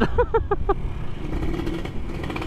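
A road race motorcycle fitted with a Killer Whale exhaust revs in a few short, sharp throttle blips, then settles into a steady, loud engine drone up close.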